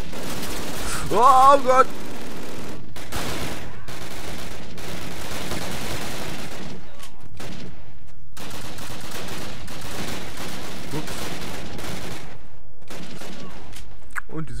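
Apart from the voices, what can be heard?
gunfire in the video game Call of Duty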